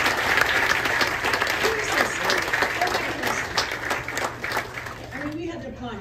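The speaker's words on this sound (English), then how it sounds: "clap." Applause fills a room at a leaders' luncheon fundraiser, a steady wash of clapping that stays loud for most of the stretch, with voices talking underneath and over it before it thins out at the end.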